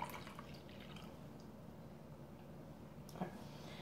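Pineapple juice is poured for a microwave cranberry drink, giving a soft, continuous liquid trickle that stays faint and close for a few seconds. The flow ends with a small splash near the end.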